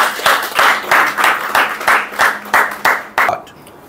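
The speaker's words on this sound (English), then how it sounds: "I would give a big round of applause for everybody here in the class" A class applauds after student presentations at a spoken English training session, about eight distinct rhythmic bursts of group clapping, close and fairly loud, fading out at the end.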